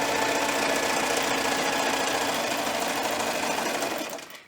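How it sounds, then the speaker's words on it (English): A sewing machine runs a straight stitch along a quilted leaf hot pad in one steady, close, loud run that winds down and stops at the end. "So I'm just gonna use a straight stitch on my machine."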